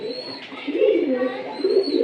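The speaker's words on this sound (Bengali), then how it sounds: "তো এই যে দেখেন কবুতর জোড়াটা" A pair of Giribaz pigeons coo in soft, low, repeated bubbling calls close by, with a brief pause between bursts.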